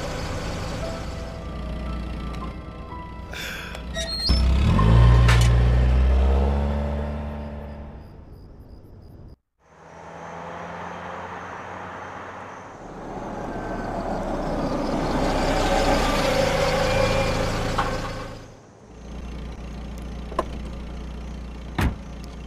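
A car in a video game drives and rumbles through most of the stretch, with engine and road noise swelling and fading, a brief cut to near silence midway, and a few sharp clicks near the end.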